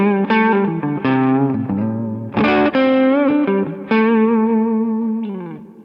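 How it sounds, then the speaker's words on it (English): Electric guitar with Guild pickups played through a Kemper amp, a loud, close chorded phrase with strummed and sustained notes carrying effects coloring and a slightly distorted edge. "it just sounds like an electric guitar"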